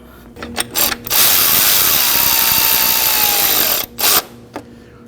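A power tool whirs in one long, loud sustained burst while snugging four bolts on a 2011-2016 Kia Optima engine, bracketed by shorter clicking ratchet-like bursts before and after.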